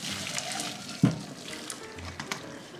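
Running water gushes from a kitchen tap over boiled okra in a colander after the hot water is poured off, a steady splashing wash with a brief louder slosh partway through.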